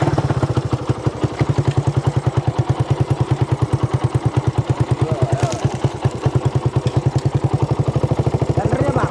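A motorcycle engine runs with a steady, rapid chugging pulse as the bike is wheeled out, close and loud, while people talk over it.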